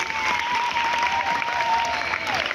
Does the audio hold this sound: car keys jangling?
no